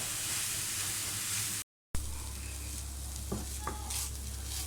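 Beef samosa filling cooks in a pan with a continuous close hissing sizzle, broken by a short gap, then resumes with a few soft stirring scrapes; no one speaks.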